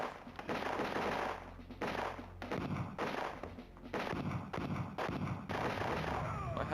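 Continuous bursts of video-game gunfire from a mouse-controlled shooter, loud and repeated in dense volleys broken by short gaps, with a steady high whine running underneath.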